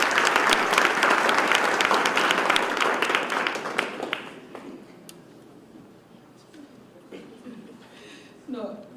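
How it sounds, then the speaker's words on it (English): Audience applause at a youth month launch event greets an official coming on stage, loud clapping for about four seconds that quickly fades, leaving a quiet room with a few scattered sounds and a voice beginning to speak. "Round of applause, please."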